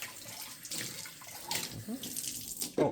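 Food is rinsed under a running kitchen tap, a brief close splashing and gushing of water with uneven bursts as things are moved through the stream.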